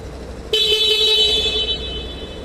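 A loud, steady horn blast from the stock horn of a Suzuki Access scooter on its center stand begins abruptly and holds for about two seconds, close by, over a low idling engine.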